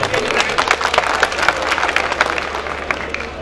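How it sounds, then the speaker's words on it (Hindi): An audience at a mushaira poetry gathering claps steadily for several seconds, a dense, close patter of many hands. "जमाल खान के नाम पे तो तालियां बजनी चाहिए थे कम से कम"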